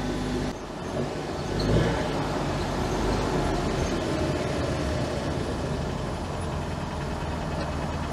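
An Autobianchi Bianchina tiny van drives along the road. Its small engine drones steadily from inside the cabin under broad road and wind noise, with no break for the whole stretch.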